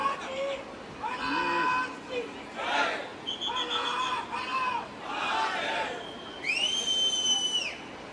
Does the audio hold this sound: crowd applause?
yes